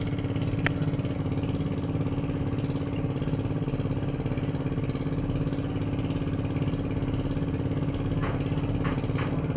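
A motorcycle engine with a worn release bearing idles steadily and loudly up close, with a constant rough mechanical rattle running throughout and no voices.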